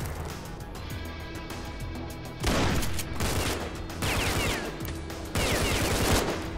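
Bursts of gunfire in S.T.A.L.K.E.R.: Call of Pripyat come in dense, rattling volleys. Several loud stretches of rapid shots sit over continuous game ambience.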